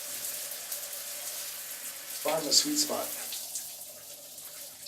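Hostel shower running in Peru, a steady soft hiss of water spray throughout, with someone talking briefly over it midway.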